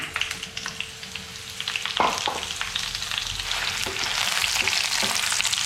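Green chillies fry in oil in a pan for gongura chutney, a steady close crackling sizzle with a few sharp stirring scrapes and clinks scattered through it.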